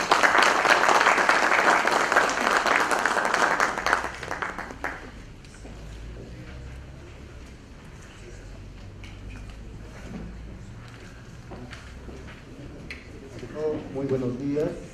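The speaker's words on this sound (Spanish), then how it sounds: "Vamos a pedir fuertes aplausos" Strong applause from an audience at a notarial conference in Cusco fills the first four seconds for a speaker's introduction, then gives way to someone speaking over faint room noise.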